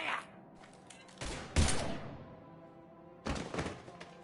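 Gunfire in the sci-fi shooter Mass Effect 3: a few sharp, heavy shots and thumps in separate bursts, loud and close, over a low background hum.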